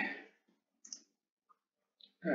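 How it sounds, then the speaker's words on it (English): A few light, scattered keyboard key presses on a PC, including the Ctrl key, land as small, faint clicks in near silence between short bits of breath or voice. "Just click Ctrl on your keyboard and press"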